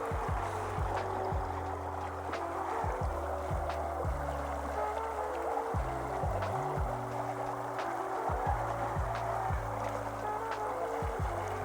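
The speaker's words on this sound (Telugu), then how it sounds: "కంటిన్యూస్ వాటర్ ఫ్లో అయితే ఉంది" Water from a forest waterfall stream in Maredumilli rushes in a continuous, even wash, with low tonal hums running underneath.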